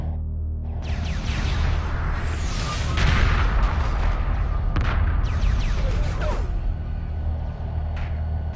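Heavy weapons fire booms through a space battle in the strategy game Homeworld Remastered, a dense, continuous rumble of blasts and sweeping energy shots, loud and sustained with a few sharper impacts along the way.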